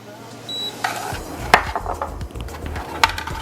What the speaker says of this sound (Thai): เสร็จแล้วเราก็จะคนส่วนผสมทั้งหมดให้เข้ากัน ใช้ตัวตะกร้อมือคนได้เลยนะครับ